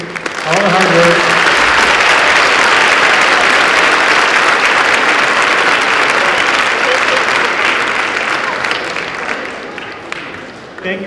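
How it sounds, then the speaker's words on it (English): Loud, sustained applause from a large audience at an elementary school spring choir concert finale, honoring the teachers, fills the whole stretch, slowly tapering off near the end. "give a round of applause to our 3 teachers"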